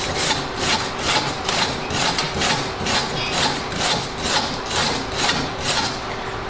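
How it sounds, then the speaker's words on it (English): A chipping hammer scraping slag off a weld bead in steady rhythmic strokes, about two per second, making a loud, close, raspy grinding with no talking. "chipping hammers are not meant to bang with. They're meant to scrape with, okay?"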